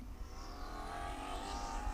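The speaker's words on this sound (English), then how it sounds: "Much different sound to the engines in these." F4 U.S. Championship race cars roll away on the circuit at the NOLA SpeedTour, their engines making a continuous, fairly loud droning roar with no one speaking over it.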